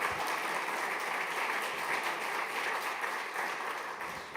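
Audience at a climate-neutral smart cities forum in Ljubljana applauds steadily, a dense even wash of many hands clapping that holds at a constant level throughout with no voices breaking through.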